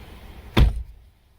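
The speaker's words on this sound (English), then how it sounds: "Let me close the door." A single solid thunk of a 2020 Nissan Sentra car door being shut, short and fairly close, followed by quiet.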